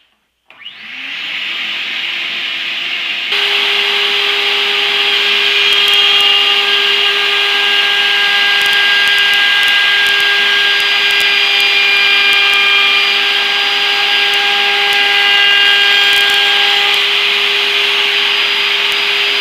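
A router table spins up while routing wood for a bench: a loud motor whine starts abruptly, steps up in pitch, then holds a steady, high, tonal roar for the rest of the clip.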